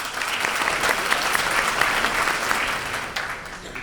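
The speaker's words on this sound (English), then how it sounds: "How about a round of applause?" Warm applause from a crowd at a school awards ceremony, dense and steady throughout, easing slightly toward the end.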